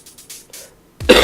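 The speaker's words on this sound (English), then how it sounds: "I think I coughed in tune with music as well" A single sharp, close cough bursts out near the end, loud against faint background music that plays quietly beforehand.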